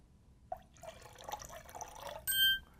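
Citrus is poured into a cocktail at a kitchen counter, a soft liquid splashing for under two seconds, followed by a bright metallic ding from a smart kitchen appliance.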